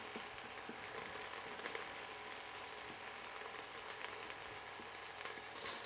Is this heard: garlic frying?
yes